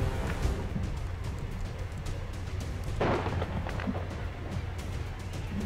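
A burst of gunfire and a booming grenade blast around the third second in XCOM 2, over a constant low rumble of battle noise.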